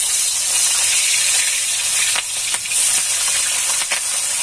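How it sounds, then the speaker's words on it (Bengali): Small chela fish fry in hot oil in a wok-style pan, giving a steady, loud hiss and sizzle that runs throughout with a few brief crackling bursts; no one speaks. "মাছগুলোকে ভেজে নেব।"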